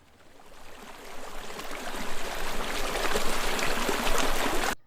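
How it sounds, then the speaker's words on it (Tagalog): Water pours into a farm sprayer tank as it is filled, a broad splashing rush that grows steadily louder as the level rises, then cuts off sharply at the end. "Kag lagyan sang tubig, punuin."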